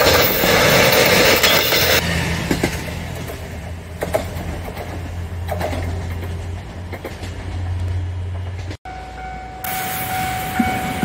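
The JR Nanohana train bound for Minami-Kagoshima rumbles across a level crossing in Kagoshima, a steady low rolling roar with faint clacks and a crossing bell ringing at the end.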